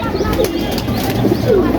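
Pigeons in a loft give soft, repeated coos, close by and continuous over a low background murmur.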